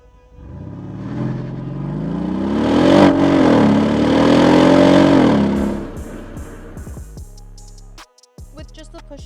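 A 2016 Mercedes-Benz SL550 V8 engine revs up loudly with rising and falling harmonic tones for about six seconds, then settles as a few clicks and mechanical sounds follow, with no talking.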